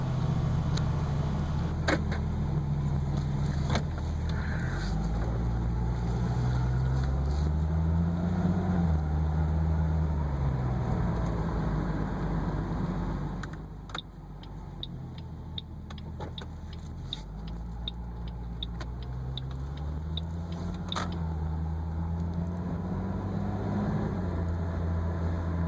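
A Ford Mustang cruises on a road, its engine hum steady with audible shifts in pitch as it speeds up and settles, heard from inside the cabin with light clicks and no talking.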